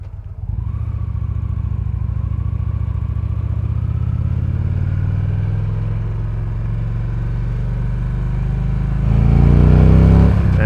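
A Victory Cross Country motorcycle engine idles with a steady low, throbbing rumble that sits close and loud. Near the end it revs up into a deeper, louder roar.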